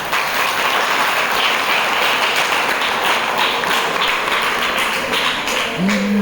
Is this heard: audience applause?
yes